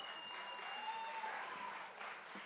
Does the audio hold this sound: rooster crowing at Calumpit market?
no